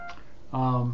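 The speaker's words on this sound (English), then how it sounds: "here comes somebody calling me right this very moment" A mobile phone suddenly rings with an incoming call during a webcam talk, a loud steady electronic tone starting midway and sustained, after a brief earlier beep.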